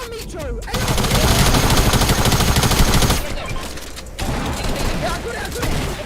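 Fortnite assault rifle fire in rapid, dense bursts close up, with a short pause midway before more shooting, while players shout excitedly over the gunfire.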